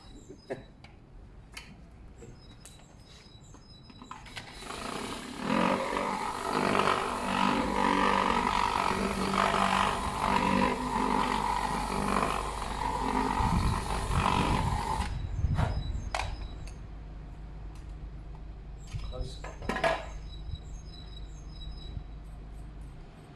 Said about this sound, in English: Quite a lot of filing this.